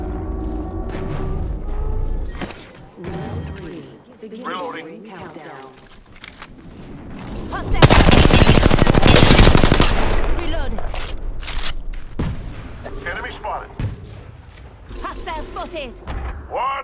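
Gunfire in the battle royale shooter Apex Legends, with a dense burst of rapid automatic shots in the middle of the stretch and scattered single cracks after, mixed with game mechanisms and a player talking throughout.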